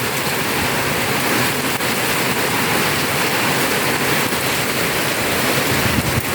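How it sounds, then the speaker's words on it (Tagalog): Heavy rain pours in a dense, constant roar, loud and close, with gusty wind noise and no voices. "Grabe yung ulan, oh."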